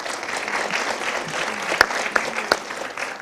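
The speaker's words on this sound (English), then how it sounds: "let's give them one more round of applause" Steady audience applause at an academic symposium honouring keynote speakers, moderately loud and sustained, with a few sharper individual claps standing out near the end.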